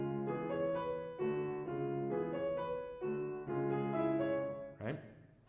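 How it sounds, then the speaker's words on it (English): A piano plays a passage from Ravel's Sonatine steadily in strict time: a series of evenly spaced chords ringing with clear harmonics, close and alone, ending with a sharper accented strike. "So if I were to play this passage metronomically, really steadily in time, it would sound like this."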